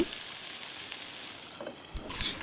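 Sliced pointed gourd fries in a pan with a continuous bright sizzle, close and steady, broken by a few soft knocks of stirring and no speech.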